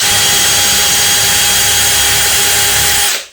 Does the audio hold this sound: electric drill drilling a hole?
yes